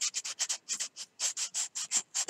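Sandpaper rubbed over a hand-carved wooden fishing lure, quick rhythmic rasping strokes, about a dozen short scrapes close up with no talk.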